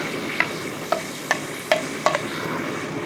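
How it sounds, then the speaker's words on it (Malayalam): Onions frying with ginger-garlic paste for a crab curry give a soft continuous sizzle, punctuated by five or six sharp spatula scrapes against the pan at a steady pace, close and without talk. "നമുക്ക് ചെറുതായിട്ടൊന്ന് വഴറ്റിയെടുക്കണം"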